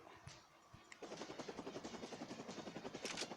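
Helicopter in the video game Crisis Actors, faint at first, then its rotor starts a steady rhythmic thudding chop that holds at moderate volume without talk.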